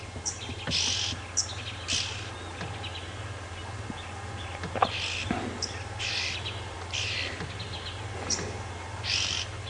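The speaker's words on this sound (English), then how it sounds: "the oxpeckers are still complaining." On a morning game drive at Djuma Game Reserve, oxpeckers give repeated sharp chirping alarm calls in bursts. They sound moderately close over a steady low vehicle engine hum.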